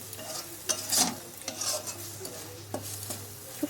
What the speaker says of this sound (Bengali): খুব সুন্দর করে নাড়াচাড়া করে একটু কষিয়ে নিচ্ছি